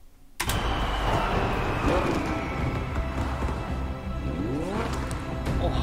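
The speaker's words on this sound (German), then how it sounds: "Oh, nochmal den Motorsound, Leute." A powerful McLaren 570S sports car engine in Rocket League roars to life abruptly, then revs and growls steadily with rising and falling pitch sweeps, loud and close.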